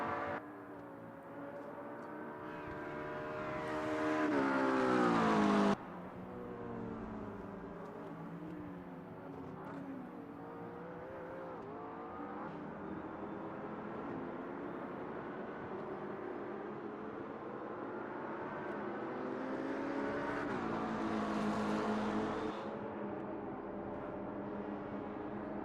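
GT3 race car engine lapping the Le Mans circuit, a steady droning roar with harmonic tones sweeping up and down through gear changes, louder near the start and swelling again later.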